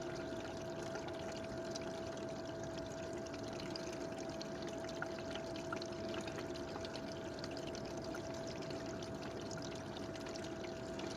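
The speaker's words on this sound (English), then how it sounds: "We'll let the Tyke Strike bucket sluice find the gold." Water runs steadily through a Tyke Strike bucket sluice while fine gold paydirt is processed, a continuous even rushing and trickling flow with a faint steady hum under it, with no talk.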